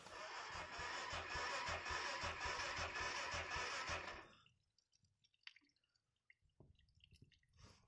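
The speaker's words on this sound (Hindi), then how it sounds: "चलो गर्म पानी डालते हैं" Hot water poured over a motorcycle engine makes a loud, steady rushing splash for about four seconds, then stops, leaving faint scattered drips and small taps in near silence.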